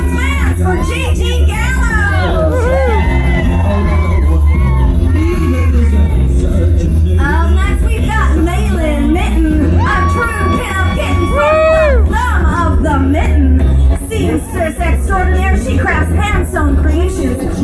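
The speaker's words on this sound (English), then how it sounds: "Clap those hands for Gigi Gallows!" A lively crowd at a pin-up contest claps, cheers and shouts for a contestant, loud and continuous, with high excited voices and whoops layered over a booming background of music.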